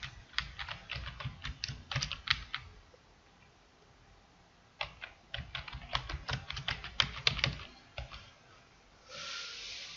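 Quick bursts of typing on a computer keyboard while a file name is entered, crisp close keystrokes in two clusters separated by a pause, ending in a soft steady hiss.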